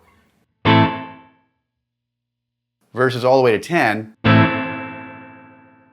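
Two sustained electric guitar chords through a Line 6 Helix spring reverb ring out with a long reverb tail, separated by a short burst of speech.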